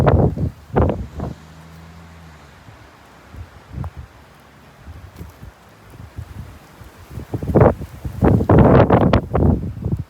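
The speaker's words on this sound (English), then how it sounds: "Very windy out here. It is very windy." Wind buffets a microphone outdoors in gusty bursts, loudest toward the end, with low rumbling blasts and no talking.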